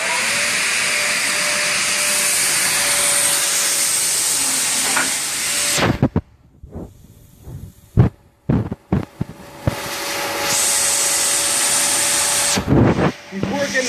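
A single-speed 1.5 horsepower belt grinder runs at full speed, a loud steady roar that cuts out sharply midway, leaving a few scattered knocks before the motor comes back up.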